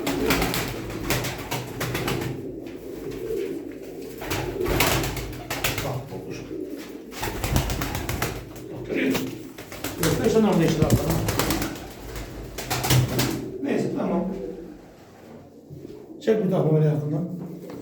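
Pigeons brought from Mardin coo in soft, repeated throaty calls close by, with occasional wing flutters, while someone talks over them throughout.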